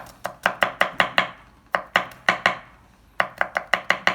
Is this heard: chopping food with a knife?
yes